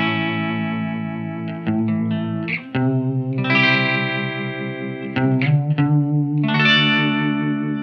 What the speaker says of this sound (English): So you get very little vibrato effect, but it's just a little bit to move things around.